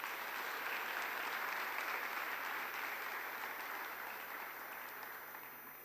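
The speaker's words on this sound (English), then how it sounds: "A big round of applause and welcome for Kaylee" A Commonwealth Youth Forum panel audience applauds steadily to welcome a speaker, a dense sustained wash of clapping that holds throughout and eases slightly toward the end.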